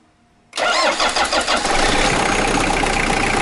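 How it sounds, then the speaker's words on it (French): A car engine started with a 6000 A jump starter booster charged to only 10 percent: silence, then a short burst of cranking that catches right away and settles into a loud, steady idle close by. "ça démarre la voiture sans aucun souci"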